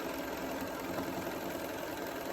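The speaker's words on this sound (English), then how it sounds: "Stitch down using the inside edge of the foot as your guide" A Bernina sewing machine stitches fabric for a face mask, giving a steady, continuous motor whir with a fine rapid needle rhythm, close and fairly constant throughout.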